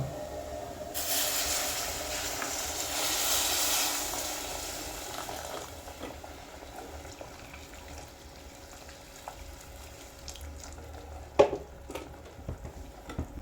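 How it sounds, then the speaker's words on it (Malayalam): A loud rush of boiling water from a kettle poured into a simmering curry pot, fading into quieter bubbling and a few clinks of utensils. "കെറ്റിലിൽ വെള്ളം തിളപ്പിച്ച് വെച്ചിട്ടുണ്ട് അത് ഞാൻ ഒഴിച്ചു കൊടുക്കുകയാണ്"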